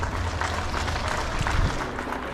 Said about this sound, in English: let us all clap our hands for all our teachers here